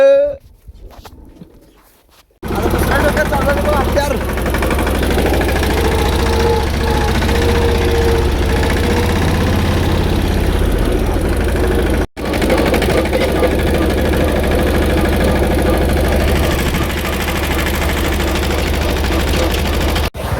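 A diesel tractor engine runs close by at a steady, rumbling idle, with a brief cutout partway through before it resumes.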